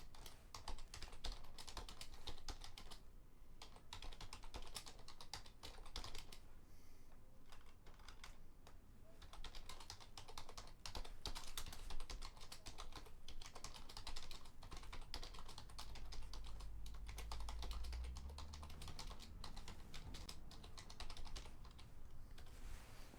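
Fast, steady clicking from a computer keyboard being typed on continuously, close and fairly quiet, with short pauses between bursts and no voices.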